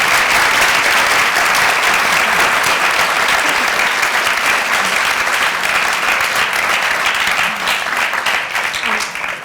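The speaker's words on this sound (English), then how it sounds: "can we all give a big round of applause to" A large audience gives a loud, continuous round of applause at a high school science day career panel. The dense clapping fills the whole stretch and eases off only slightly toward the end.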